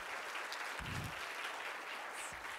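Applause at an opening ceremony for the event organizers: a continuous, even crowd clapping with a couple of low thumps underneath, moderately quiet and steady throughout.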